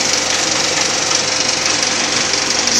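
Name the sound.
Victoria 5 cinema film projector mechanism whirring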